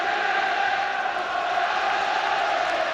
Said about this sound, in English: you can hear the crowd giving them vital encouragement now